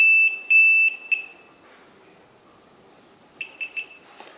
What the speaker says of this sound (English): You hear that one last beep.